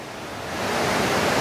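Steady roaring rush of the Arra waterfall in Tompobulu, Maros, close and loud, a dense hiss that swells slightly and holds with no voices.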